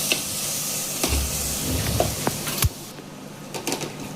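Fried spice masala is stirred in a pan, giving a steady close sizzle with scrapes and knocks of the spoon against the metal and no voices.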